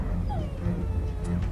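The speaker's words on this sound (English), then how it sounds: "Oh, poor doggy." Dog whimpering inside the video game The Last Express, a soft, thin whine that rises briefly over a steady, fairly loud background hum of game ambience.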